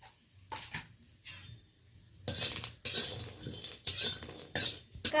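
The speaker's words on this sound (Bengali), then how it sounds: "আঁচ লাগিয়ে আমি রসুনটা শুকনো কড়াইতে ভেজে নিলাম" Garlic is dry-roasted in an empty kadai over the flame. A spatula stirs and scrapes it in short, intermittent bursts with quiet gaps between, faint and close.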